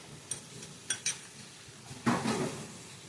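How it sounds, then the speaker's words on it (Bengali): A spoon stirs about three spoonfuls of grated coconut into a pan of pumpkin curry, with a few sharp clinks against the metal followed by a longer scraping, sizzling stir, close and fairly quiet. "নারকেলটা দিয়ে ভালো করে নেড়ে নিলাম।"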